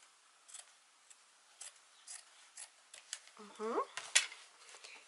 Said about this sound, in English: So I'm going to cut this fabric.